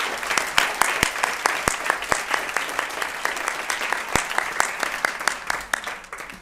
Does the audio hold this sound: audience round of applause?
yes